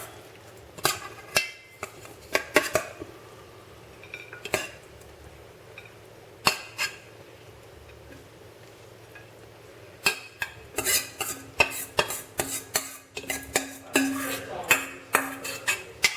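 Plates, bowls and cutlery clink and chink while rice noodle salad is plated, with scattered clatters that come in quicker bursts toward the end, close by, and a voice talking faintly underneath.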